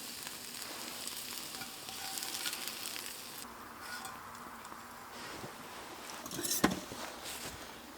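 Steak frying in a pan over the portable Firebox Freestyle 8 stove outdoors, a steady close sizzle and crackle throughout, with a single sharp clank near the end.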